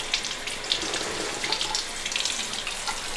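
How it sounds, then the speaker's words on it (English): Water streams steadily from a tap into a basin while a child's face is washed, a close and continuous splashing hiss with small uneven spatters throughout. "Come, wash this. Wash your face."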